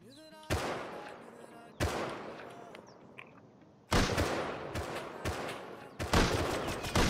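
Gunfire in the online survival game Rust during a PvP fight on an Australian Facepunch server, with four loud sharp bursts of shots at irregular intervals, each ringing out and decaying.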